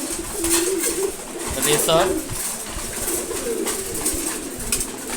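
A loft of pigeons, Giribaz, Giachulli, Silver Gora and Maxi Racer breeds, coo continuously while feeding from trays, a steady murmuring chorus close by with some scattered scuffling.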